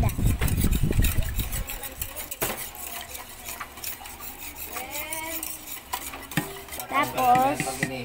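A spoon stirs a gelatin mixture in a pot while evaporated milk is added, producing scraping, clinking strokes at close range, with heavier handling thumps at the start and voices talking over much of it.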